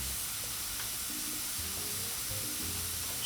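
Steak and onions fry in grease on a 22-inch Blackstone griddle, giving a steady, dense sizzle that holds evenly throughout with no speech.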